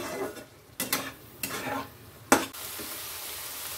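Okra and shrimp in a Bengali-style curry, with a pinch of sugar, stir-fried in a pan to dry off the water: a spatula scrapes and knocks several times over a soft, steady sizzle, with no voices.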